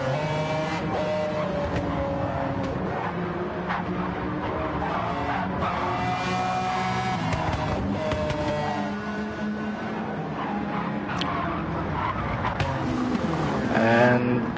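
Race car lapping Suzuka during the 1000km Legends event, a steady engine drone with shifting pitch and faint tire squeal, held at moderate loudness throughout with a louder swell near the end.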